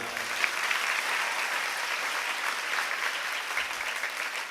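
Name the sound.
audience applause at Islamic study gathering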